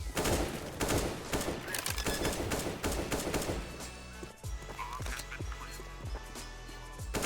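Counter-Strike: Global Offensive gunfire on the Mirage map during a FlipSide versus FaZe match, with dense bursts of rapid shots early on, followed by a slower run of distinct, evenly spaced single shots.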